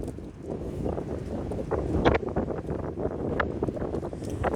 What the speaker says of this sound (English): Okay, here's another gust.